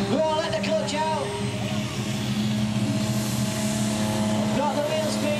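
The Bad Medicine common rail diesel tractor puller engine runs loud and steady nearby, with a sustained heavy rumble and tonal whine that rises in a rev, while people talk over it.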